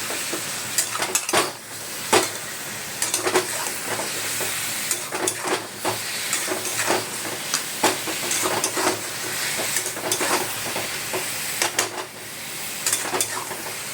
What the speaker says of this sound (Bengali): নুন দিলাম, দিয়ে ভালো করে ভাজবো এটা